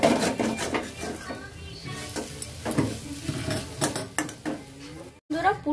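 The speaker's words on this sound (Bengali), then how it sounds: "এরকম বারবার করে নাড়তে হবে যাতে নিচে লেগে না যায়।" Fish chop filling of lote fish stirred in a cooking pan, repeated scraping and clattering of a spoon against the pan in an uneven rhythm, close and fairly loud.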